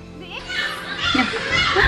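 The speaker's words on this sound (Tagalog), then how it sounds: "Ang ingay dito, guys, kasi yung mga bata nanonood ng TV." Children playing and chattering noisily indoors near a television, their voices rising and mixing into a busy, continuous din over a steady low background hum.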